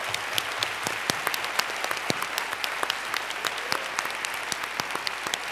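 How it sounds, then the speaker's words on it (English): A conference audience applauds in a steady, full round of clapping with many sharp individual claps through a dense patter, sustained and fairly close. "Big round of applause for the stars of UNSTUCK."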